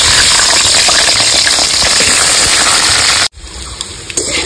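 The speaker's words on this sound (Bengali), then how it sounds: "তেল গরম হয়ে গেছে, দিয়ে দেবো আলুর টুকরোগুলো" Potato pieces dropped into hot mustard oil in a kadai, giving a loud, dense crackling sizzle that cuts off abruptly, followed by a quieter hiss.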